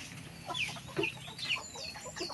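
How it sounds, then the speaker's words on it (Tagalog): Chickens being fed at a hut cluck and chirp softly in short, scattered calls, faint and close together. "Nagpapatuka ng manok."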